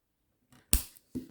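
Cutters snipping jewelry wire for a wire-wrapped pendant, one sharp close snip followed by small handling clicks, quiet and alone without talk.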